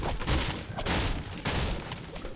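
Pistol gunfire in a multiplayer video game, a quick string of sharp shots fired in bursts over about two seconds, loud and close with no talking.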